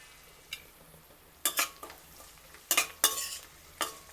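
Onion pieces frying in a pan for a simple vegetable thali are stirred with a utensil, making a few scraping clinks and swishes over a quiet sizzle, close up and with no talking.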